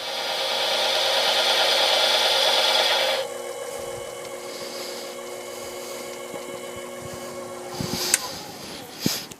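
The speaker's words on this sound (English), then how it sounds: "So there I was just enlarging the hole a little bit more." A hand boring tool enlarges a hole in wood, giving a steady rasping scrape for about three seconds, then quieter intermittent scraping and a few sharp knocks near the end.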